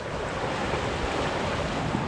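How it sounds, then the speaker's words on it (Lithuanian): Broad, steady rushing of a river flooded after rain, loud and unbroken for the whole stretch, with a windy roar mixed in and no voices. "upė ištvinus iš po lietaus"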